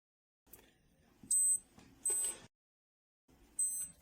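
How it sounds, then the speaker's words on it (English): Short bursts of high, bright chiming beeps from a Breitling Aerospace minute repeater watch sound in groups with quiet gaps, over faint mechanical clicking, close and clear. "Through a sequence of beeps, you will be able to know the time to the exact minute."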